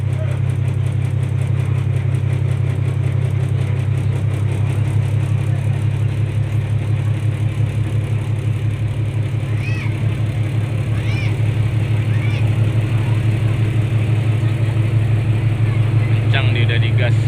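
A ferry's engine hums with a deep, steady low drone as the boat departs on a morning crossing from Teluk Sinabang toward Labuhan Haji, with faint chirps and voices in the background.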